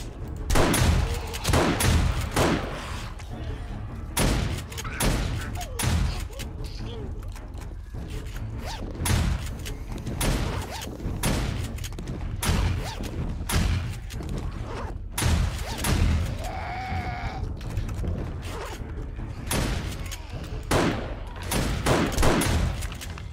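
Repeated bursts of gunfire in 7 Days to Die during a horde night, loud sharp shots in rapid irregular volleys throughout, with mechanical clicks between them.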